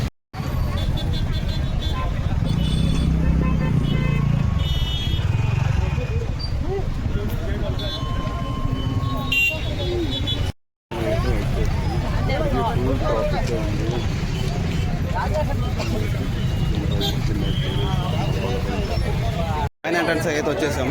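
Busy road traffic near Isha Foundation in Chikkaballapur during Mahashivratri makes a dense, continuous roadway rumble with passing vehicles, while voices talk and chatter over it throughout.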